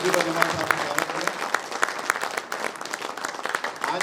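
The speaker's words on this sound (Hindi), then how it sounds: "जोरदार तालियों से राजस्थान की धरती पर जमाल साहब का स्वागत करें" Loud, dense applause from a crowd of party workers at a political event in Rajasthan, welcoming Jamal Siddiqui, sustained and close throughout with a voice faintly mixed in.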